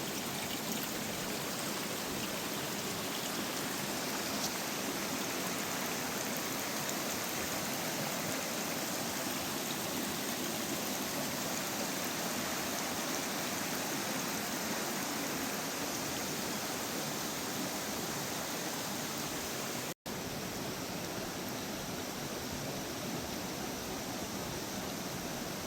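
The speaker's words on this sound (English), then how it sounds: "the water goes underneath that rock" Steady, dense rush of creek water flowing beneath a rock at Peters Falls in Tallowwood, a constant close wash with no voices.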